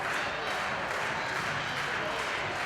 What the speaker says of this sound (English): They're clapping.